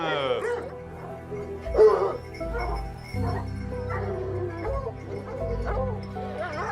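Several hunting dogs, from a kennel of about thirty, bark, yip and whimper close by in an echoing space, with a low mechanical hum running underneath.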